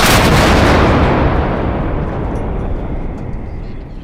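A single Ukrainian 2P22 Bohdana-BG towed howitzer fires in one massive, deep blast, its boom echoing and slowly rolling away over several seconds.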